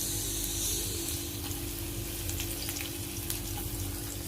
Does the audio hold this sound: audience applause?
no